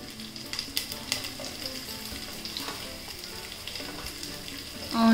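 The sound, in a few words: garlic, carrot, green chilli and onion frying for upma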